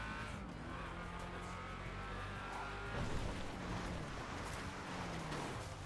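A car engine in the video game GTA drones steadily with rising and falling pitch during drifting, punctuated by tire screeches and skidding, loud and continuous throughout.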